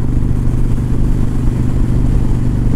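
A Harley-Davidson XL1200C Sportster motorcycle engine runs loud and close with a steady, throbbing low rumble that holds even throughout, no talk over it.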